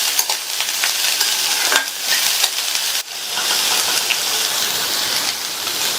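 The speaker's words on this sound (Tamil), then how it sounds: "பொடியா கட் பண்ண 200 கிராம் பீன்ஸ் எண்ணெயிலேயே 2 நிமிஷத்துக்கு ஹை ஃப்ளேம்ல வச்சு வதக்கிக்கலாம்." Chopped beans, about 200 grams, sautéing in oil over a high flame, a steady dense sizzle with stirring throughout, loud and close, with no talking.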